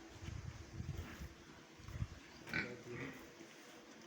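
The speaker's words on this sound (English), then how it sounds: "very healthy pigs in their numbers, making" A crowd of Duroc pigs in a large farm piggery gives low, scattered grunts close by, with a brief higher squeal midway, fairly quiet against the pen's background.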